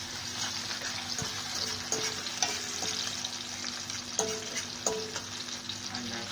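Garlic, chopped onion and sweet pepper fry in hot oil with a steady, dense sizzle, broken by a few soft knocks and stirring scrapes, close and alone with no talk.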